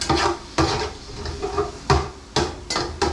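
Garlic being stir-fried in a pan, with loud scraping stirs striking at irregular intervals over a steady sizzle, close by and with no voices.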